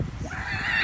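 Ducks by the seashore give a brief nasal honking call, fairly close and clear, rising over a steady wash of outdoor background noise.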